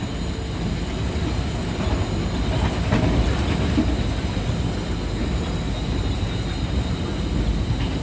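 Green Line passenger train running between Rawalpindi and Lahore, Pakistan, heard from inside as a loud, continuous rumble with faint wheel clatter and a slight swell midway.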